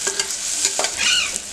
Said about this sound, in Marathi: ही फोडणी आपण आता फुल गॅसवरतीच परतून घेणार आहोत.